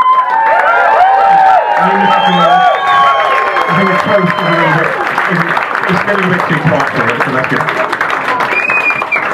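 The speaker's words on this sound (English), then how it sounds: "we'll do a really loud cheer to the beautiful bride" Wedding guests cheer and whoop for the bride, a loud, sustained crowd roar with clapping that holds for the whole stretch while someone talks over it.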